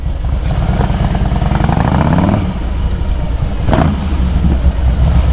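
A 1700 cc Harley-Davidson Heritage motorcycle's exhaust revs up and rises in pitch, drops back, then gets a quick second blip, loud and close.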